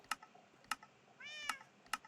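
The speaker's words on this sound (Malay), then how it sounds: "Ni kucing aku tu." A pet cat gives one short, clear meow between sharp keyboard-like clicks that repeat at a steady rhythm close by, in a quiet room while someone plays Minecraft.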